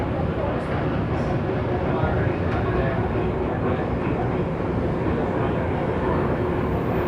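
On board a passenger train moving at about 75 km/h, a constant dense roar of wheels and carriage noise fills the scene, loud and unbroken from start to finish.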